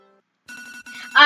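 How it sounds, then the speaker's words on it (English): A phone alarm ringtone starts after a short silence, a steady electronic tone pattern that pauses briefly and comes back louder and brighter at the end. "Android users wake up to their alarms versus"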